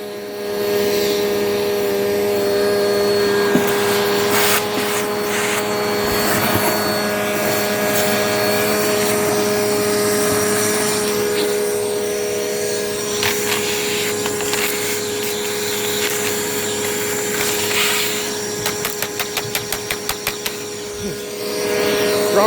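A Dirt Devil Powermax XL vacuum cleaner runs continuously and loudly up close, its steady whine and roar shifting slightly as it works, with rattling clicks near the end.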